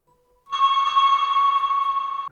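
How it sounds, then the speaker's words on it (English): A bell instrument patch with effects, used for R&B melody production, rings out as one sustained bright tone with shimmering overtones, starting abruptly and holding steadily for nearly two seconds before cutting off. "The next instrument that we got here is the bell"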